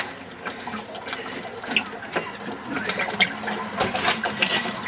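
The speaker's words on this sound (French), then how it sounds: "le chauffe-eau est en train de se vider" Water drains out of a residential water heater with its safety valve opened, a steady rushing and splashing flow with gurgles and drips, continuous and fairly close.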